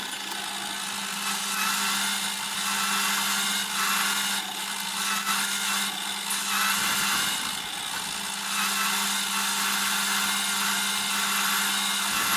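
A home-built Gingery milling machine drill bores through a metal spindle with a steady, loud whirring whine, a continuous mechanical hum with slight shifts in tone.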